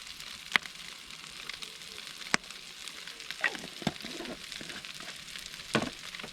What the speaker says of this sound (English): go ahead and melt some more of this butter. Put a little bit more oil here.